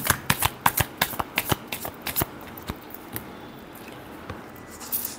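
Tarot cards shuffled by hand, heard as a run of quick, crisp riffling bursts that slow and thin out toward the end, close and clear with no talking.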